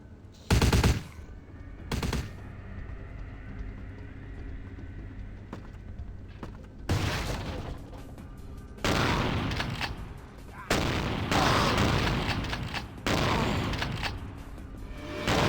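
Loud shotgun blasts and bursts of gunfire in Vampire: The Masquerade, with two sharp isolated shots early, then heavy overlapping volleys and booms that crowd the later half.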